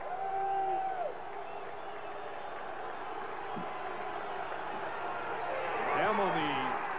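College football stadium crowd at a 1986 game between Georgia Southern and Nevada, a sustained roar of cheering that swells near the end, heard under a commentator's voice.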